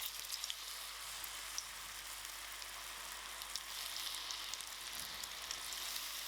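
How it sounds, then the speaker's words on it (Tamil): Soya chunks deep-fry in a pan of hot oil, giving a steady, fine hiss and crackle that holds at an even level, with faint pops and no one talking. "இப்போ நம்ம ஒன்றா போட்டு பொரிச்சுக்கலாம்"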